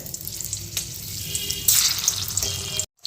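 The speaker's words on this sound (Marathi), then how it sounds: "आता सगळ्यात पहिले जे आहे ते आपण तोंडी लावायसाठी मिरच्या तळून घेऊयात" Green chillies fry in hot oil in a wok, giving a loud, bubbling sizzle that surges midway, then cuts off abruptly near the end, with no speech.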